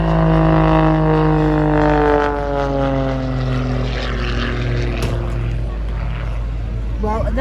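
A propeller aircraft performs at an airshow in Southport, its engine drone loud and steady with a pitch that slides lower as it passes, while a commentator talks over it.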